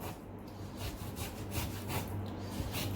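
A sharp knife drawn through shark fish close to the bone near the tail: a rough, rhythmic rasping and scraping in short repeated strokes, close and fairly quiet, with no talking.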